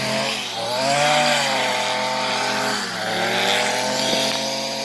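A Stihl FS 70R powered tool runs continuously near the edge of a surface, its two-stroke engine droning loud and steady with strong harmonics that dip briefly and rise again as it blows debris.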